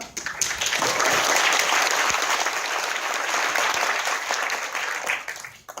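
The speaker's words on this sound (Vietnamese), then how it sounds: "Give yourself a hand." A large audience applauds steadily, a dense wash of clapping that holds loud for several seconds before tapering off at the end.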